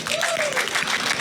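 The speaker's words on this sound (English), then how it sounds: "Why are they clapping so fast?" A crowd at a protest flag ceremony claps in a fast, continuous patter, dense and moderately loud, with a brief tonal sound over it at the start.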